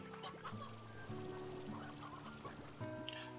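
Chicken clucks from a Slime Rancher ranch, short fowl calls scattered over steady tonal game music and ambient hum, moderately close.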